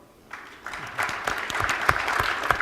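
An audience at a business talk breaks into applause, starting with a few scattered claps and building into steadier clapping from a modest-sized crowd in a hall.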